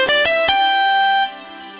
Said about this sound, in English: So if you want more delay, a longer echo, just increase the feedback level.